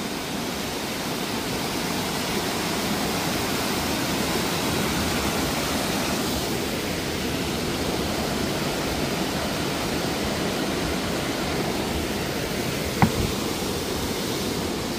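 Water flowing steadily in the Black Forest near the Hofgut Sternen hotel, a continuous broadband rush like a stream or small waterfall, close and loud throughout, with one brief knock near the end.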